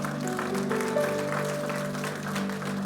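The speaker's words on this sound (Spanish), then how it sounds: "Dele ese fuerte aplauso al Señor, porque Él es bueno." Congregation clapping in church during a worship service, a steady wash of applause layered over sustained tones from instruments playing underneath, moderately loud and continuous throughout.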